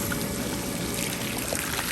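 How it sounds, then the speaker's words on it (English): Coleman pool's DIY water fountain spraying into the pool, a steady, even hiss of falling water with no pauses. "how much water comes out of that water fountain"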